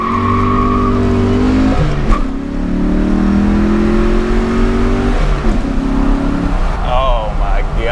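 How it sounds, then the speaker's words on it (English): A 1993 Ford Mustang Cobra accelerates hard, its loud engine climbing through revs and breaking off at two gear shifts before pulling again, with a brief squeal of tyres near the end. "We're gonna test out the acceleration right now."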